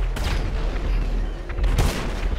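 Gunfire in GTA 5 booms in heavy, dense bursts, loud and close, with rumbling low-end blasts overlapping across the whole stretch.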